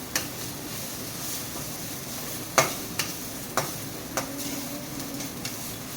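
A snack fries in a pan with a steady sizzle. Several sharp scrapes from stirring cut through it at intervals, close and clear, with no talking.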